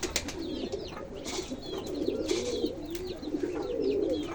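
Pigeons coo in a low, continuous rolling murmur, with faint chirps from smaller birds scattered above it.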